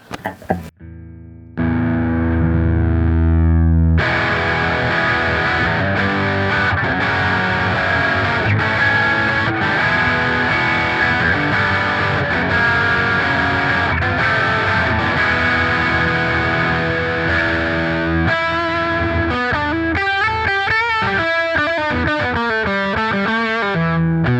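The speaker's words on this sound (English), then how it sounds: "Let's go ahead and hear what it sounds like in the dirty channel of the amplifier." A distorted electric guitar with a Seymour Duncan JB humbucker through the dirty channel of a Peavey Axcelerator amplifier plays loud, sustained chords and riffs with a crunchy, saturated tone, ending in quicker picked notes.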